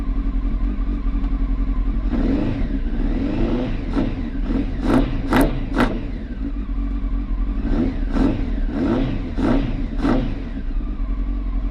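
A Honda Fireblade motorcycle engine idles steadily after a spark plug change, then revs up sharply several times in quick bursts, loud and close.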